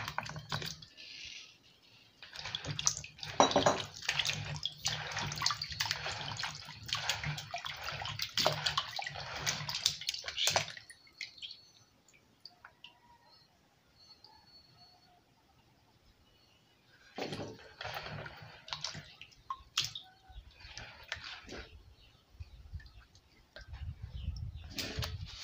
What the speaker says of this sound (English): After slicing it, I'll wash it with a clean water.